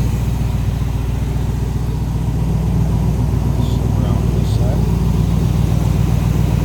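A 1973 Chevrolet Corvette's 350 engine idles with a steady, even low rumble close by while someone talks over it.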